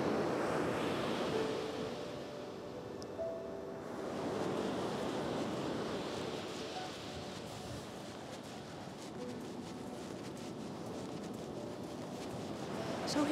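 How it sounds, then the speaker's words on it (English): Waves break on a Cape Cod shore with wind, a steady distant wash of surf rising and falling in soft surges, with gusty wind noise and no talking. "some of these waves are coming up quite high"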